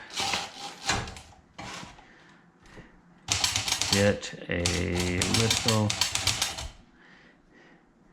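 Bursts of rapid mechanical key strikes from a sticky manual typewriter whose carriage stops moving, close and fairly loud, with someone speaking briefly between the bursts.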